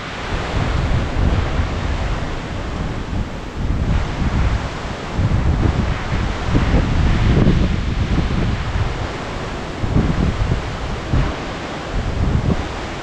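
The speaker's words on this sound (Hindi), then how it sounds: "भाई साहब, क्या हवाएं चल रही हैं।" Strong wind buffets a tent during a heavy rainstorm while camping solo in extreme cold, a continuous loud roaring rush with gusts rising and falling, no voices.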